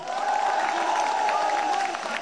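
Loud, sustained applause and crowd noise fill a packed mayor night event in Barisal, a dense wash of clapping and cheering that holds steady throughout.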